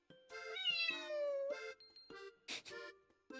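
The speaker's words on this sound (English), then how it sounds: "So when I hear that, it's like, ah, the cat's meowing." A cat meows several times in a row, clear and close, the calls rising and falling with short gaps between them, played as an alert sound for ads.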